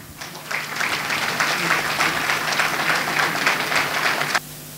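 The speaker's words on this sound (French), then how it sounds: "Cela s'applaudit très fort." At an academic gown ceremony in Burkina Faso, an audience breaks into loud, sustained applause for a few seconds before it cuts off abruptly.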